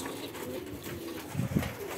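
Pigeons coo softly at close range, with low throaty bursts rising near the end over a faint outdoor background in a rural yard where chicks are also kept.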